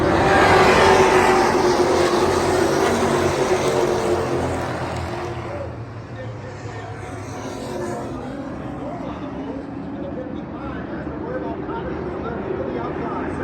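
Pro race trucks accelerating on a restart at Thompson Speedway, engines roaring loudly as they pass and then fading to a steady distant drone, under a commentator's talk.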